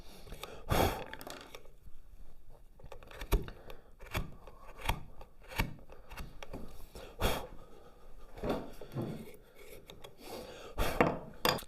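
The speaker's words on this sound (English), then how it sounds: "And I start the chisel on that knife line." Chisel paring wood along a knife line while cutting a dovetail halving joint: a series of short scraping, rasping strokes and light taps, close and fairly quiet, with brief pauses between cuts and no talk.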